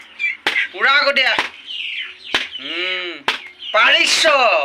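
A pig's head is hacked apart with a blade during a party, with several sharp, close chops landing between voices talking nearby.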